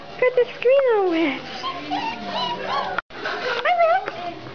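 High, wavering whimpers and squeaky yips from young dogs, close by, overlapping with excited baby-talk from a person.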